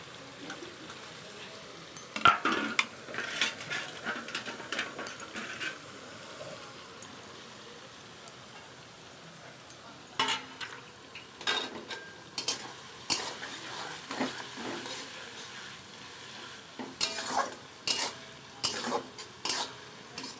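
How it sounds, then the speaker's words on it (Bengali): Spice masala for chicken being sautéed, with a utensil scraping and clinking against the pan in bursts of stirring over a faint background hiss, no speech. "মশলাটাই একটু কষাই ভালো করে"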